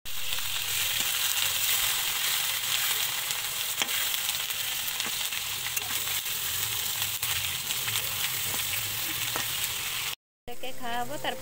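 Fish rubbed with salt and chili sizzle steadily and loudly in hot oil, a dense crackling fry that runs on without pause until a brief cut near the end.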